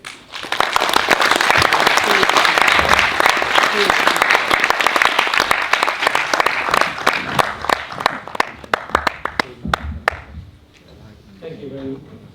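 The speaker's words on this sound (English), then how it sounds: "Please join me giving him a warm round of applause." A conference audience gives loud, dense applause to welcome a keynote speaker, sustained for about ten seconds before tapering off. A voice then begins speaking.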